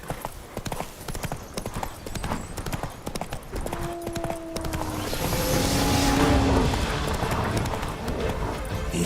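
Horse hooves clip-clop steadily in The Witcher 3, a rhythmic run of hoofbeats that slows and settles, with a brief whinny-like tone and rising ambient wind toward the end.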